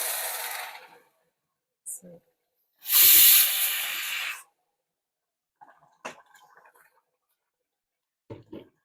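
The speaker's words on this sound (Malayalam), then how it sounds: "ഞാൻ ഇതിപ്പം വെള്ളം ഒഴിക്കുകയാണ്" Loud sizzling hiss erupts as water hits a hot pan of broken wheat, preceded by a shorter hiss, then fading to quiet clinks and small kitchen sounds.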